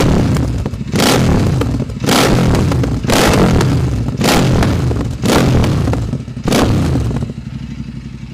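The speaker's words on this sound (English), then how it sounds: "It has a Silver Stallion exhaust, twin exhaust, as you can see, and let's fire it up now." A Royal Enfield Interceptor 865 motorcycle fitted with a Silver Stallion twin exhaust is revved repeatedly up close, loud throaty bursts roughly once a second over a rumbling idle, each blip rising sharply then dropping back.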